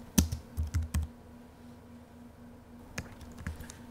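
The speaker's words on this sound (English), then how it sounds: "I will change one of these and type in something with special characters." Keys clatter on a computer keyboard while special characters go into a blog entry field: a quick burst of close, crisp clicks, a pause, then a few more scattered keystrokes.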